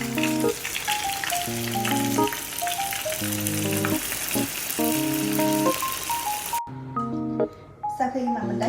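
Chicken wings deep-fry in hot oil at medium heat, giving a steady crackling sizzle that runs throughout beneath a talking voice and tonal background sound.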